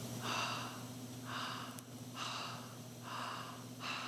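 Slow, deep breathing exercise: about five rhythmic, fairly airy breaths in and out, close and fairly quiet over a faint hum.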